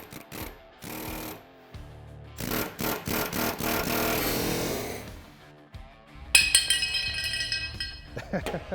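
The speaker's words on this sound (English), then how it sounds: "And then kind of work your chisel up and out." A chisel working a bushing collar out on a Eaton Fuller or Meritor shift stick isolator, with sharp metallic clinks and rapid scraping taps up close, mixed with a voice talking.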